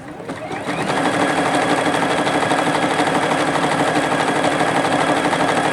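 Juki HZL F300 sewing machine stitching steadily, a fast, even mechanical whir that starts low and rises to a constant full-speed hum, close and loud, with no talking over it.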